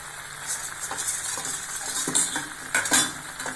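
Chickpea gravy cooking in a pan, a steady bubbling sizzle with a few soft scrapes and clinks of a spoon stirring, close and alone.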